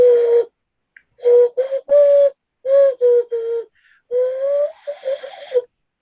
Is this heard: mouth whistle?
yes